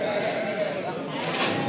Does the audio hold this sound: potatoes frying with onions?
no